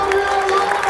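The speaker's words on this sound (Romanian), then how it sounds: "tot stadionul s-a ridicat în picioare și îi aplaudă" A stadium crowd at Barcelona's farewell for Busquets and Jordi Alba keeps up a steady roar of cheering and applause beneath a commentator speaking over it.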